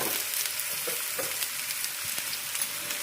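Beans palya, a stir-fry with onion and roasted gram powder, is tipped into a hot pan and mixed, giving a steady close-up sizzle with soft scraping stir strokes throughout.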